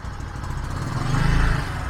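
A Bajaj Boxer motorcycle engine runs close by with a fussy carburetor, a steady low putter that swells slightly louder mid-way before settling back.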